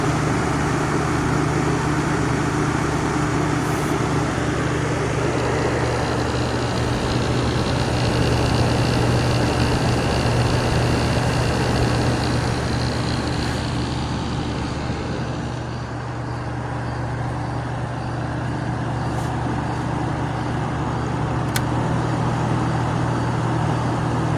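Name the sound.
compressor of a 1983 General Electric Carry Cool air conditioner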